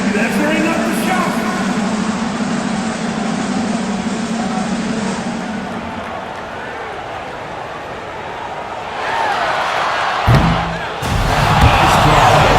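An arena crowd in NBA 2K25 roars and murmurs steadily as a public-address announcer talks over it, then the noise swells again with a sharp thud and louder cheering near the end.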